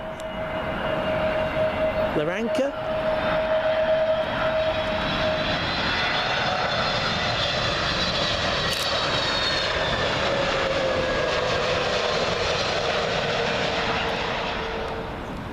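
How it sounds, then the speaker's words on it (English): A British Airways Airbus A320neo in Better World livery, arriving from Larnaca, lands on Heathrow runway 27L, its engines a loud, steady roar with a whining tone, building and holding as it passes close overhead. "Next up is going to be the BA Better World livery on the A320neo for British Airways, and this one in from Larnaca."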